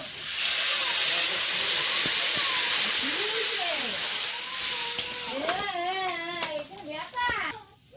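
Water poured into a hot pan of fried fish hisses and sizzles loudly and steadily for several seconds, while voices talk over it near the end.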